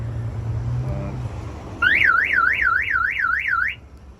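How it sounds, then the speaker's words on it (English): The alarm of a 2008 Toyota Tacoma wails in a rising and falling electronic warble, loud and close, sounding for about two seconds before cutting off. "Nice classic alarm."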